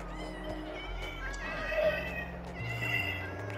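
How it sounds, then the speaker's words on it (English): A cat meows in the Minecraft video game, a soft, fairly faint call heard over continuous game ambience and background music. "Cats."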